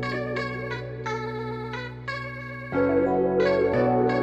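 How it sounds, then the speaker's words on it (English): A smooth melodic beat plays with reverb and delay added, a repeating plucked synth melody over a steady low tone that shifts into a fuller, louder section with deeper bass partway through. "just add some reverb to it,"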